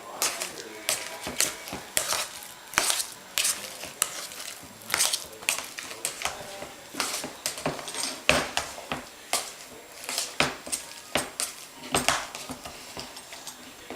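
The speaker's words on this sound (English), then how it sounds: "we are ready for our mashed potatoes, which I will mash up here" Potatoes being mashed by hand in a pot for shepherd's pie, giving a steady run of close, sharp metallic clanks and squishing thumps that repeat irregularly for the whole stretch with no talking.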